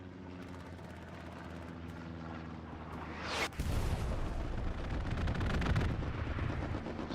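An aircraft strafing run and a precision strike in the World War II shooter game Hell Let Loose: a loud engine roar builds, then a sudden blast leads into sustained rumbling gunfire and explosions.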